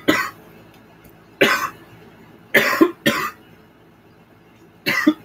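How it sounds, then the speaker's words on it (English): Five harsh coughs ring out close by, one alone, then a pair, then another, with quiet gaps between them. "I'm still coughing."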